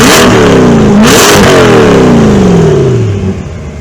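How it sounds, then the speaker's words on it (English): A 2020 Chevrolet Corvette C8 with a performance exhaust revs twice in quick, loud, close bursts, the pitch climbing sharply each time, then slowly winding down into a lower, fading rumble. "I'm going to insert a clip right here of me revving it."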